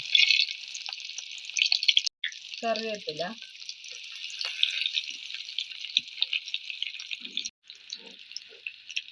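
Garlic and small onions fry in hot coconut oil with a loud, continuous sizzle, while a voice talks briefly over it.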